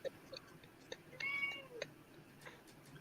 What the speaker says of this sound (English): The whiniest ass cat I've ever heard in my entire damn life.